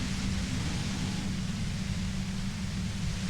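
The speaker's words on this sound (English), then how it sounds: "You hear through the white noise." Steady static hiss of white noise in the Disco Elysium video game, a dense, unchanging wash with a low humming band beneath it, loud and continuous with no voices.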